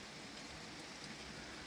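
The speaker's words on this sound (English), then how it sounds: "It's raining outside" Steady rain falls outdoors, a soft continuous hiss of drops on surfaces with no breaks, fairly faint and even throughout.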